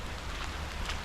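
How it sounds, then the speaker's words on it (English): Steady rain falling at a campsite in Naples, Florida during a thunderstorm, a dense, even hiss of drops with no voices. "the rain's not letting up any"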